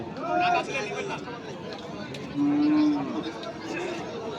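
Native Bangladeshi deshi cattle at a Shahiwal bull market in Ambari, Dinajpur, with two short low moos standing out over crowd chatter and talking nearby.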